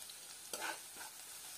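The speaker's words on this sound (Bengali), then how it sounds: "লবণ দিয়ে আবারও ভালো করে নেড়ে চেড়ে পেঁয়াজটাকে খানিকটা সময় ভেজে নিতে হবে।" Onions frying in a pan with salt as they are stirred, a soft steady sizzle with a brief louder scrape of the spatula midway, close and alone without talk.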